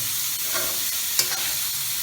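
Vegetables for fried rice being sautéed and tossed in a hot pan, a brief burst of sizzling with a few soft scraping stirs.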